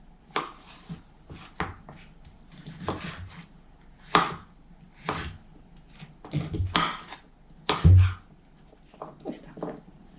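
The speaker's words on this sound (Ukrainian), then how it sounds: "Гарбуз нарізаю кубиком, таким крупненьким." A knife dices pumpkin on a cutting board in irregular bursts of close, sharp knocks, some quick and clustered, others spaced apart.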